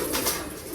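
Pigeons in a coop coo softly in a brief, continuous murmur against a steady background hiss.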